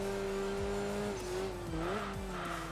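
In the racing game Enthusia Professional Racing, a Subaru Impreza's engine drones steadily while its tires squeal in a sustained skid with shifting pitch, loud and continuous throughout.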